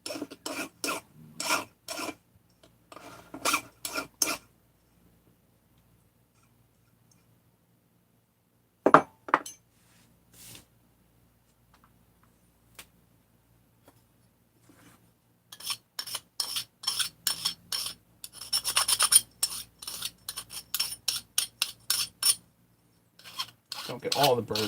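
Bursts of rhythmic rasping as a hand file scrapes burrs off small metal tool-kit parts, quick strokes in clusters separated by quiet gaps, with occasional light metallic clinks close by.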